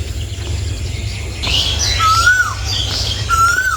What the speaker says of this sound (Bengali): দেখেন কোকিল পাখির ডাক কত সুন্দর